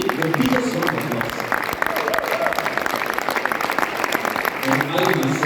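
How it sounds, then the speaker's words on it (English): A crowd at a Riway Europe team meeting in Poland gives sustained, loud applause, dense clapping that runs for the whole stretch, with some voices and cheering mixed in. "we really need to give all our Riway Europe team meeting the biggest round of applause"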